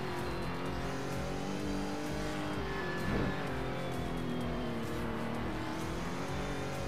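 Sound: race car braking and downshifting in Roblox video game

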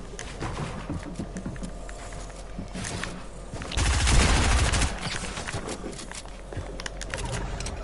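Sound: SMG gunfire in a video game

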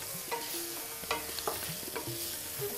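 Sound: spices and potatoes frying in a pan

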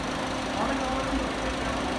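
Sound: Ford Courier engine and fan running before stopping

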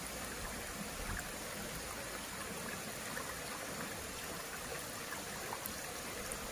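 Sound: spring water gushing from the ground after a landslide

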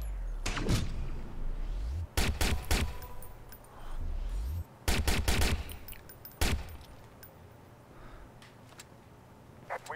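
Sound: gunfire in the video game Watch Dogs

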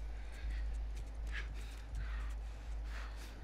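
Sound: horse hooves clip-clopping, from video game The Last of Us

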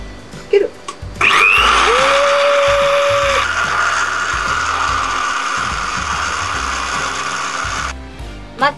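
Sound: blender running

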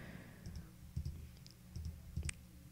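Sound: computer mouse clicking

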